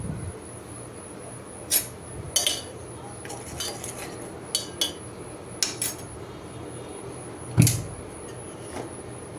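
Tea being strained in a home kitchen, a series of sharp metallic clinks and taps of a strainer and cups, spaced irregularly over quiet room noise, ending with a louder knock.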